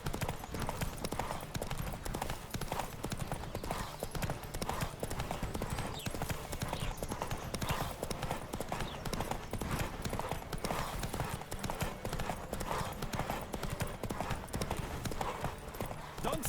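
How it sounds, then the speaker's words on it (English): Horse hooves clip-clopping at a gallop in the video game The Witcher 3, a steady rapid beat under a dense wash of background game sound, continuous throughout. "Don't scare the horse!"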